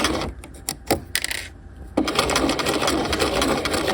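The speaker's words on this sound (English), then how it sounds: "we only want to be sewing the facing and the lapel" A sewing machine stitches the facing and lapel of a half-scale jacket, starting with a few short, stuttering bursts and then settling into a steady, loud run close by.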